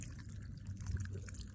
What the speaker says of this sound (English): the water should drain through the garden hose.